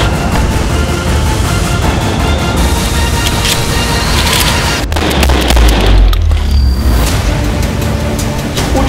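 Two loud combat shotgun blasts go off a second apart against constant noisy background rumble at a firing range.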